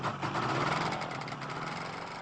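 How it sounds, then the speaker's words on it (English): A two-stroke 50-horsepower engine on a Shadow microlight aircraft warms up with a steady, continuous buzzing drone, moderately distant and unbroken for a couple of seconds. "The two-stroke 50-horsepower engine soon warmed up and Peter Davies prepared for a practice run"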